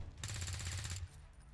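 A single sustained burst of gunfire from XCOM 2 with the Long War 2 mod, a rapid rattling volley lasting about a second, then quiet background.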